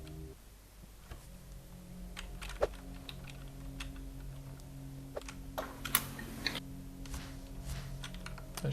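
Keys clatter on a computer keyboard in uneven bursts, with a few sharper, harder taps standing out against a low steady hum.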